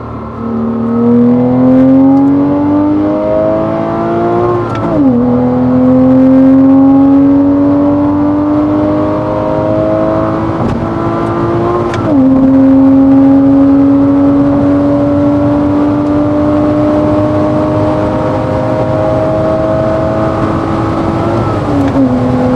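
A Porsche Cayman with a manual gearbox accelerates hard on the road, its engine note climbing steadily through several gears with brief dips at each shift, loud and close throughout.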